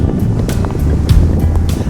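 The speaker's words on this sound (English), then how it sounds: "it's really windy" Strong wind buffets the microphone with continuous low rumbling gusts, loud and close, with no talking, high up on the Appalachian Trail.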